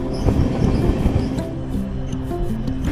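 Another train rumbling past, heard from aboard the Vasco–Shalimar express near Dudhsagar in Goa: a loud, continuous low roar of wheels and carriages with faint metallic squeals rising near the end.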